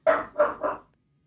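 A pet parrot named Unagi imitates a dog, giving three quick, close bark-like yaps in a row, each clear and distinct, then going quiet.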